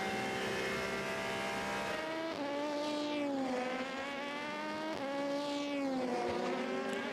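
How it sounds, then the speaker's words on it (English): Onboard engine of the No. 97 race car at the 2017 24 Hours of Le Mans, a steady, continuous roar whose pitch rises through each gear and drops sharply twice on gear changes, with no speech. "I've just turned the volume up on the car noise."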